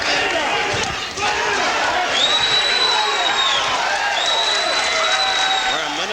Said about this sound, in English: this partisan crowd of Chicagoans loving it